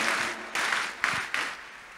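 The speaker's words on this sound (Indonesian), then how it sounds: "Boleh berikan tepuk tangan dulu yang paling meriah buat Tuhan." Youth church congregation applauding, a short burst of clapping in several swelling waves with a few sharper individual claps.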